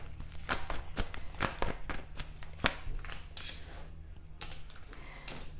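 Tarot cards shuffled by hand to pull a clarifier card, a run of crisp close riffling bursts and sharp taps in an uneven rhythm, without speech, over a low background hum.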